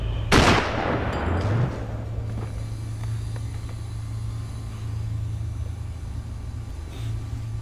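A single sniper rifle shot in Sniper: Ghost Warrior, a sharp loud crack near the start that decays into a rolling echo, followed by a steady low hum and quiet ambience.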